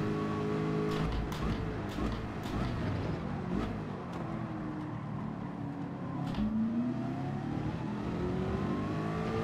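Race car engines roar continuously in the Gran Turismo racing game, a dense layered drone with rising and falling revs and a few sharp clicks on top.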